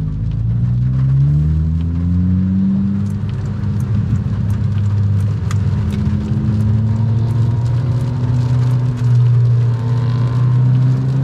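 A rear-wheel-drive BMW M4 with about 700 wheel horsepower drives on a wet road in the rain, its engine holding a steady, low, droning tone under a constant hiss of tyre spray, heard up close and loud throughout.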